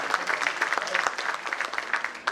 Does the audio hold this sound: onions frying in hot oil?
no